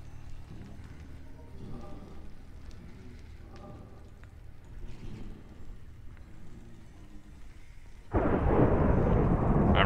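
Rain and a thunderstorm in the Adventure Time video game, a faint steady patter with low rumbling, then a sudden loud burst of heavy rain or thunder near the end.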